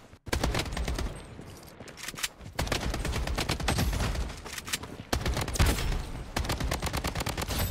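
An AK47 fires in Blood Strike in rapid, loud, close bursts that run almost continuously, with brief gaps between volleys.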